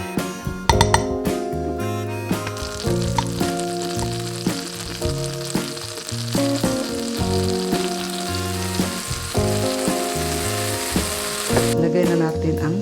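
Salmon patty frying in a pan, a loud steady sizzle and crackle with occasional clinks of utensils against the pan, continuous throughout.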